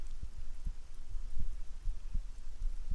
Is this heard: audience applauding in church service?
no